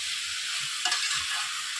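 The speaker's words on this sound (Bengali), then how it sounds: "এখন এর মধ্যে দিয়ে দিচ্ছি আমি সেদ্ধ করে রাখা এঁচোড় আর আলু।" Boiled jackfruit and potato sauté with spices in a pan, giving a close steady hiss of frying with one brief clatter of stirring partway through.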